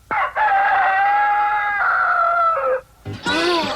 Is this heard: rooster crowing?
yes